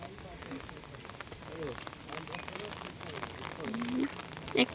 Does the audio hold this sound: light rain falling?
yes